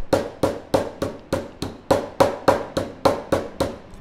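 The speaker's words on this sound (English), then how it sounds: "I can switch to using the peen on the hammer" Steady, evenly spaced hammer blows on a metal rivet, flaring it with the peen in a metal shop: about a dozen sharp, ringing close strikes at a quick regular rhythm, each with a short decay.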